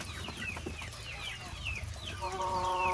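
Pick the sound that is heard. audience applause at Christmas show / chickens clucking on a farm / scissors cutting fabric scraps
chickens clucking on a farm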